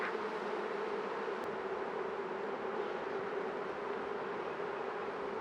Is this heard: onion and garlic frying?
no